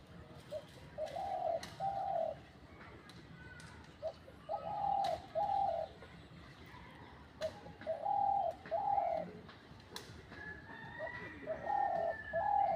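A decoy dove coos repeatedly in short rhythmic phrases from a tree, fairly close and clear, with quiet pauses between calls and faint ambient chirps behind.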